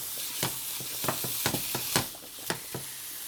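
A pound of partly frozen ground beef hamburger meat sizzles in a pan, a steady frying hiss broken by repeated sharp scraping and stirring strokes as the meat is broken up, close and clear.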